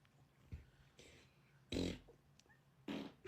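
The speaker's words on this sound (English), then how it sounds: "Guess my fart." Several short, low fart-like bursts come one after another in a quiet room, with a few softer noises between them.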